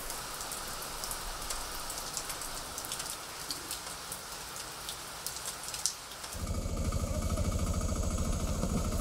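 Steady rain falls in Djibouti, a dense, crackling patter at moderate volume that gives way after six seconds to a louder, rougher rushing downpour or drumming, with no voices.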